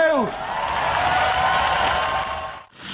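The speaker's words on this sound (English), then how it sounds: "A round of applause for Steg 2!" A studio audience at a 2000 Robot Wars Series 4 taping applauds the Hampshire robot team Steg 2, a loud, dense wash of clapping with some cheering and a tonal music bed, holding steady before dropping out sharply near the end.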